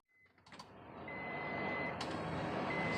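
Power antenna motor on a Mitsubishi 3000GT, freshly repaired after regrooving its nylon drive, whirring up and running steadily with a faint high whine and a couple of clicks, close by.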